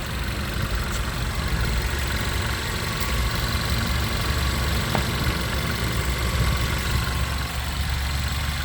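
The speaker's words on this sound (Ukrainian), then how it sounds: "Чиста робота двигуна." A 2012 Volkswagen Passat B7 engine with 147,000 mileage idles steadily with a low, even rumble and a faint ticking, constant throughout with no revving or voices.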